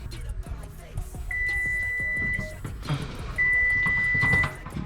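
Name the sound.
powder coat oven timer beeping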